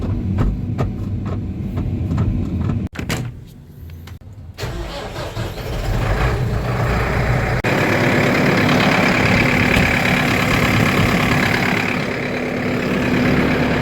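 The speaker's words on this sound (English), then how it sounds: "So while the tractors are warming up" Steady, loud engine rumble from tractors idling while warming up on a dairy farm, briefly cutting out and then another engine catching and settling into a continuous drone.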